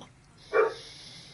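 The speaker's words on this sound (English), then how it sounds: "He's a very protective dog." A protective dog named Ruger gives a single short, fairly faint bark indoors against a quiet background.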